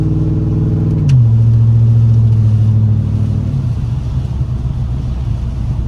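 Stock pickup truck with a 4.8 engine and stock torque converter creeping forward off the brake with no throttle, a steady low engine drone that shifts pitch once near the start, continuous and close with no talking.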